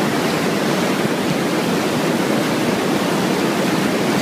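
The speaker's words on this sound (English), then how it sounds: "Okay, we have the air scour just beginning." Air scour bubbling and churning up through the sand and anthracite media of a granular water filter during backwash, a steady, loud, broadband rushing wash like a waterfall that holds constant throughout.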